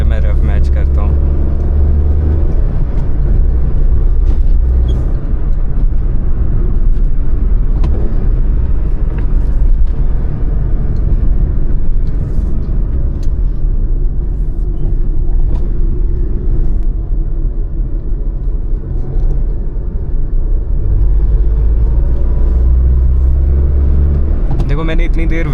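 A Maruti Alto K10 drives a mountain road near Shimla, its engine a steady close, loud in-cabin rumble, with the revs rising and falling as it downshifts and blips. A voice seems to run over it.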